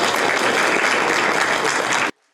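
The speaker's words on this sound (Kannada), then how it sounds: "ತಮ್ಮದೇ ಜೋರಾದ ಚಪ್ಪಾಳೆ ಮುಖೇನ" Loud, dense applause from a seated audience at a health excellence awards and honor ceremony in North Karnataka, a sustained even roar of clapping that cuts off abruptly near the end.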